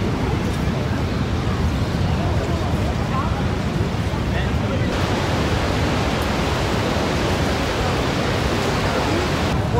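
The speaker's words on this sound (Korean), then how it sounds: "나이아가라 폭포." Steady, loud roar of rushing water from Niagara Falls, a continuous broadband wash with a crowd murmuring faintly beneath it.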